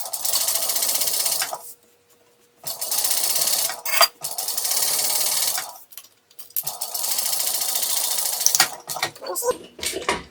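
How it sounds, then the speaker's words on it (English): A sewing machine top-stitches through a double layer of fabric on a small tote bag, running in steady loud bursts broken by short pauses, with a person speaking briefly. "My machine is not liking sewing through this double."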